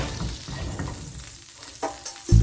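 Butter melts in a pan with a soft, faint sizzle, punctuated by a few light clinks and a louder knock near the end.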